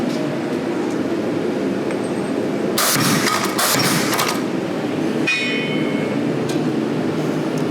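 A hammer drives steel drifts through hot iron at a coal forge, giving a few sharp ringing strikes in a quick cluster, then a later single hit over a loud, constant roar of forge air.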